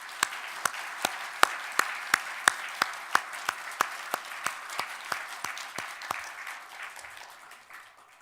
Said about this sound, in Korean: 박수를 올려드립니다